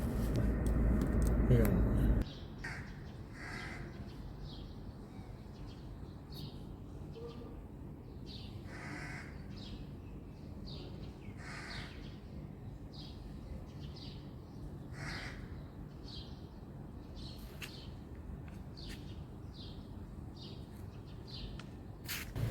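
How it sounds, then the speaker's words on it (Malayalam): Crows perched overhead in Qatar give repeated short caws, spaced every second or two at a moderate distance, while someone speaks throughout. "ഈന്റെ മുകളിൽ നിന്ന് നിറയെ കാക്കകളാണ്"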